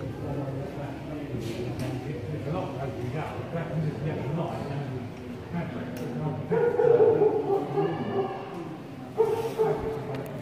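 A recorded dog barking sound effect plays in a museum's historic hardware store display, barks and yips in bursts while a person talks over it, the barking growing louder toward the end.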